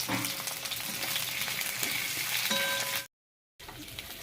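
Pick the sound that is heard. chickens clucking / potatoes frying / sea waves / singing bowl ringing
potatoes frying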